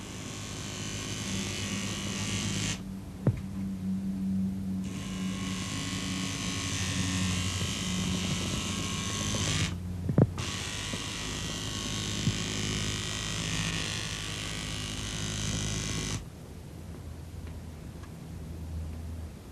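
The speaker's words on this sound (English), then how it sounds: "first traces the outline of the drawing with his electric needle" An electric tattoo needle traces the outline of a drawing with a steady close buzz that runs in long stretches broken by brief pauses, with no talking.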